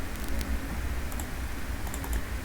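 Keystrokes on a computer keyboard during Excel work, a quick cluster of clicking taps close up over steady background hum.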